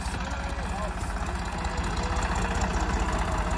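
A Swaraj 963 4x4 tractor engine runs steadily close by, a low continuous rumble with a slight knocking texture throughout, before being hitched to a 10-foot rotavator.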